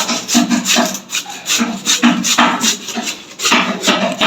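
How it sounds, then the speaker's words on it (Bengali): Carrots are rubbed hard against a metal grater in quick repeated strokes, each pass a loud, close, rasping scrape in a steady back-and-forth rhythm. "এইভাবে আমরা গ্রেটার দিয়ে ঘষে নিচ্ছি"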